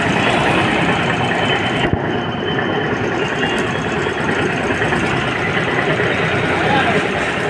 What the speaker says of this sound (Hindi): गाड़ी देख सकते हैं हमारा स्टार्ट हो चुका है।